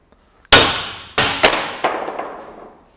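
A hammer bangs on a wheel bearing housing with several loud clanging blows, the last ones ringing on with a high metallic tone.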